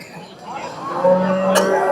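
Cattle at the Seenapuram cattle market give a loud, drawn-out moo close by, rising over a soft background murmur of the market.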